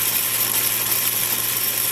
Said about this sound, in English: With the chuck attached to the carriage like this, I can drill the full depth of the drill bit on the same setup